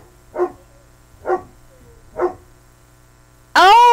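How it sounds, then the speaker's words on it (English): A dog barks three times at an even, unhurried pace in a quiet room, each bark short and moderately close, followed by a sudden loud tonal burst at the end. "I hope you can still hear me over the barking dog."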